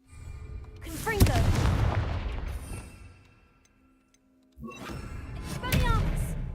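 A Confringo spell cast in Hogwarts Legacy goes off as two booming blasts with crackling tails, separated by a brief silence; a voice is heard along with the bursts.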